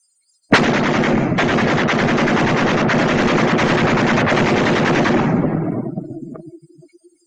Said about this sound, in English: when it's pouring out of a machine gun, light or heavy, it can make a man look like a sieve in a matter of seconds